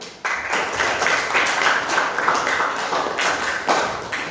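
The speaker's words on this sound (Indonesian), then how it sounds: "Tepuk tangan dulu." Students in a school classroom clap together, a dense steady patter of many hands at close range lasting a few seconds, with no talking over it.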